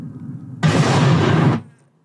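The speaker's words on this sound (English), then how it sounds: "The sound of those depth charges hitting the water" Depth charge explosions from the submarine war film U-571, a sudden loud broadband burst with heavy bass that holds for about a second, then fades quickly into quiet, preceded by a low rumble.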